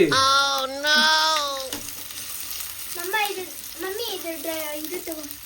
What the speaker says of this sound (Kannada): ಈಗ ನೋಡ್ರಿ ಎಣ್ಣೆ ಬಿಸಿ ಆತ್ರಿ ಇವಾಗ ಹೆಚ್ಚಿರುವಂಥ ಉಳ್ಳಾಗಡ್ಡಿನ ಎಣ್ಣೆ ಒಳಗೆ ಹಾಕಿ ಚಲೋ ಹೊತ್ನಾಗ ಫ್ರೈ ಮಾಡ್ಕೊಂಡ್ರಿ